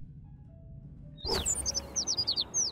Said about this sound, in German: Da ist noch ein Vögelchen